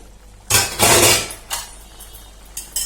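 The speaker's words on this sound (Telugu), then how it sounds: "ఇలా ఒకసారి ఇలా కలిపేసుకుని మూత పెట్టేసుకోవాలి మళ్ళీ" A lid goes onto a cooking pot of dried prawn curry with sesame flour, giving a loud metallic clatter and a clink of kitchenware, then a few quieter knocks and taps.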